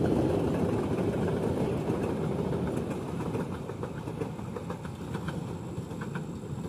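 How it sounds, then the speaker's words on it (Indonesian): A CC203-9812 diesel locomotive of the Jember depot idles nearby, a steady low rumbling throb holding at an even level throughout with no voices. "Lokomotif CC203-9812 Depo Induk Jember."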